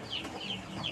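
Five-day-old chicks being raised in a brooder chirp and cluck softly and steadily, a continuous close chorus of small birds.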